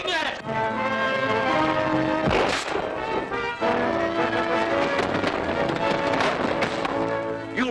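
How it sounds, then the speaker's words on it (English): Gunshots from an old film serial ring out in sharp bursts over a loud orchestral score, with voices talking among the blasts and a heavy crack near the middle. "Shooting at it!"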